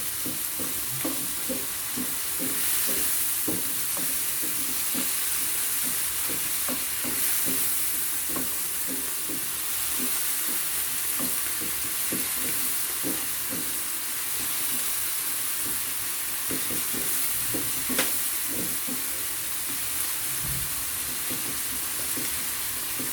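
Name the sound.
stirring peppers frying in a pan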